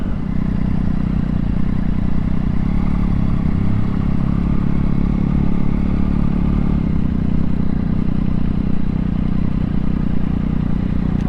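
A Triumph Daytona 675 motorcycle rides along the road on the way to a charity ride-out, its engine a steady, close, loud drone with constant road rumble and no breaks for the whole stretch.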